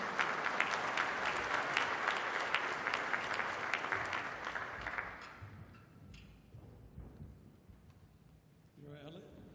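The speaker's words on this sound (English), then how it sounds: "Please, let's give him a big round of applause." An audience at a development finance forum gives a round of applause, a loud, dense burst of clapping that fades out after about five seconds, followed by quiet room sound and a brief voice at the end.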